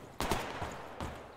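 Gunfire in the post-apocalyptic shooter game Survarium: two sharp, fairly faint shots about a second apart, each with a quick tail.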